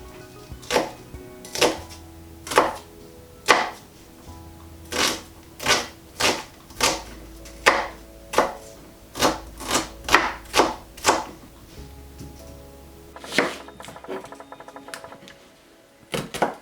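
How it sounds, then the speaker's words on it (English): A knife finely chopping onion on a board, a series of sharp, close taps in an uneven rhythm with short pauses between bursts. "So finely chop the onion."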